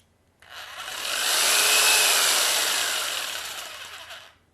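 An electric jigsaw switched on by its trigger, running freely for about four seconds with a steady high-pitched whirring buzz that starts abruptly and stops, close and alone.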